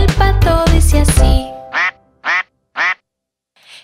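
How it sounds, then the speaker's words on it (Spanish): In a Christian children's song about Noah's ark, loud music stops and three sharp duck quacks follow one after another, close and prominent, as the duck's call in the song. "Quieren oír cómo hace el pato. Quieren oír, el pato dice así."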